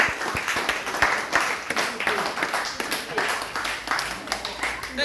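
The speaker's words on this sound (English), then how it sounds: "Clap for him" Students clap for a classmate during a classroom science demonstration of light. The clapping is steady and moderately loud, with voices mixed into it.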